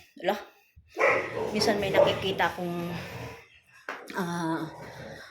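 A dog barks in a quick run of sharp yaps, then again after a short pause, close by, with a voice speaking over parts.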